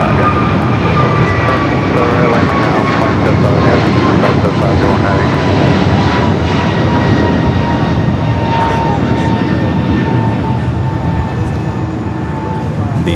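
A Delta Boeing 767-300ER taxiing at LAX, a steady loud jet engine whine and rumble that holds throughout, with a voice talking over it.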